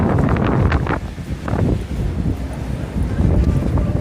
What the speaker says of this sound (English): Man, that got real windy real quick.